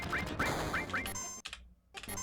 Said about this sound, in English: it feels good to be able to use the keyboard again